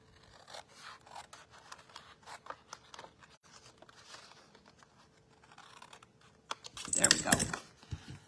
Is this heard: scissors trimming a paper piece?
yes